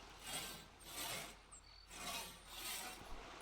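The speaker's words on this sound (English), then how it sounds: "I hear her sawing." A villager in the video game Foundation saws wood, a steady back-and-forth rasping in repeated strokes, moderately loud with no talk over it.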